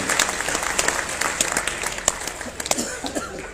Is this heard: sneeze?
no